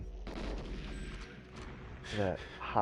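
A blast and bursts of fire in GoldenEye 007 after a gas can goes up, loud booming rumble with crackling gunfire-like hits, busy and dense throughout, ending in a bright burst.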